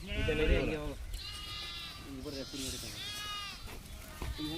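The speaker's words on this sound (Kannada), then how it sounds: "ಇದು 400 ಕುರಿ ಇದೆ" Sheep bleating in a flock of about 400 kept by herders in southern Bengaluru, several overlapping cries rising and falling close by, with people talking over the animals.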